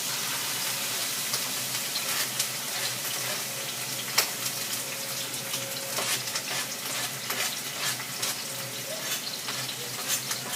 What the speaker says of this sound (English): it's going to be a nice sizzle there